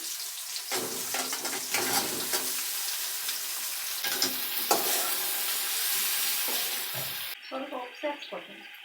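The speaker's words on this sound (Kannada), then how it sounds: "ಈರುಳ್ಳಿ ಹಾಕೊಂಡಿದ್ದೀನಿ ಬದನೆಕಾಯಿ ಸೇರಿಸ್ಕೊತೀನಿ" Eggplant and onions fry in oil in a pan, a loud, dense sizzle with stirring scrapes throughout, easing near the end into softer clinks and bubbling.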